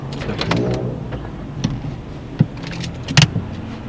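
Learner car engine restarting after a stall during a driving test, an idling hum inside the cabin with a few clicks and small knocks, heard up close.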